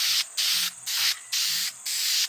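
A can of red spray paint hisses loudly and close by in five quick bursts, each separated by a brief pause.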